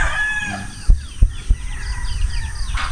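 A rooster crows with outdoor bird calls on Burias Island, the call rising over rural background ambience. A few dull thumps sound close by, and no one speaks.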